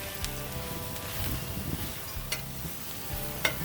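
Onions and peppers sizzle on a griddle under a steady frying hiss, with several distinct scraping stirs from a spatula, all close and with no talk.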